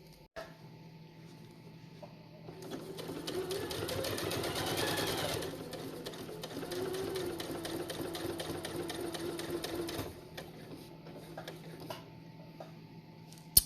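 A sewing machine stitches down quilt binding in a steady, rapid run of needle strokes lasting several seconds, close and moderately loud, with a quiet hum before and after.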